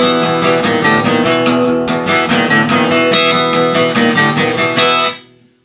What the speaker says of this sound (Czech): Takže to je riff hraný přes všechny struny.